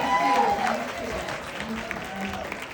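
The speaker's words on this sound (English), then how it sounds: "a massive round of applause on that note of hope for Mahira Khan" An audience claps in sustained applause for Mahira Khan at an evening question-and-answer event, a dense, even patter of many hands.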